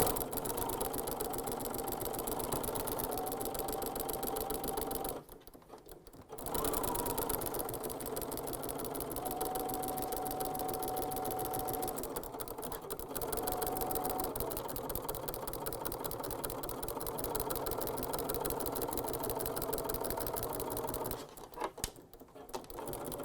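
Sewing machine with a ruffler attachment stitching scalloped ruffles for a pillow, a steady fast mechanical chatter running continuously with two brief pauses, close and even.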